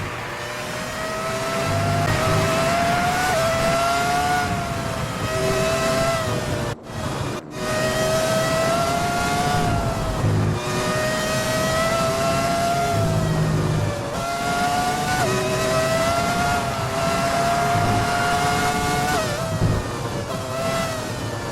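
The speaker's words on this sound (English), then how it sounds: "now I'm just allowing you to hear the sounds of a magnificent Formula 1 car." A screaming classic Formula 1 car engine revs high and changes pitch through gear shifts, loud and continuous, with a brief cut near the middle.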